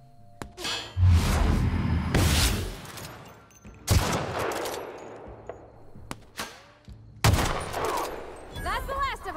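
Hunting rifle shots boom out in The Outer Worlds, a few loud, close blasts spaced seconds apart, each followed by clanging and rumbling battle noise.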